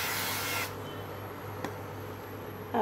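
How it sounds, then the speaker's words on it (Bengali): A small amount of oil is sprayed into a hot frying pan as a short, loud hiss that cuts off sharply, followed by quiet with a faint tap and a brief rustle at the end. "এখানে আমি খুব অল্প পরিমাণে স্প্রে করে দিচ্ছি একবার।"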